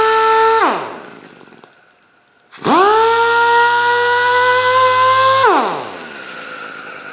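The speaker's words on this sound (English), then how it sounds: "You guys are going to see this sander being used a lot here on the channel." A dual action sander spins up to a steady high whine, winds down to near silence, then ramps up again for a few seconds before slowing, loud and close with a smooth tonal hum.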